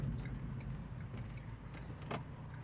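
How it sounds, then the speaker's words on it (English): A car approaches along a road on the route from Barbate to Cádiz, Spain, heard as a steady low engine and tyre rumble under outdoor ambience, with no one talking. "There's a car coming,"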